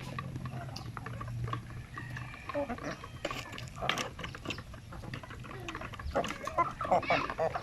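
Native Basilan chicken chicks in a brooding pen, a scattered chorus of small high peeps with some soft shuffling, heard close under a voice.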